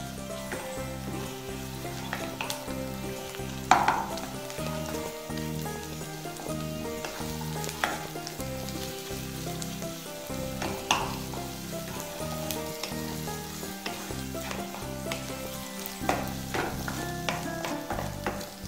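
Shrimp paste, fried and ground, with onion and garlic being stirred in a hot pan, giving a steady close sizzle with scraping stirs throughout.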